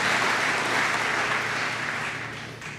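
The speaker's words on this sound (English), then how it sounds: "So please, let's applaud Parker and thank him and his family for all they've done for the industry" Applause at a bourbon hall of fame ceremony, a loud, dense wash of clapping from a large audience in a room that holds steady and then tapers slightly near the end.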